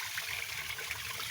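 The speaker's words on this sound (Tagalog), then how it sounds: "Itapon natin yung tubig." Water from a catfish container is poured out, a steady hissing rush and trickle heard close by at low level, with no talk.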